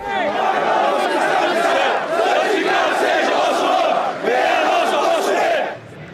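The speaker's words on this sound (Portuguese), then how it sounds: "Nas arquibancadas, mais de 51 mil vozes se tornaram uma só, em oração" A stadium crowd of over 51,000 voices chanting together in unison, a loud, massed, rhythmic roar of many people with rising and falling phrases that fades at the end.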